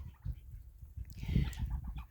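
Chickens on a backyard flock cluck in short, close bursts that build toward a busier flurry midway, with low rustling underneath and no voices.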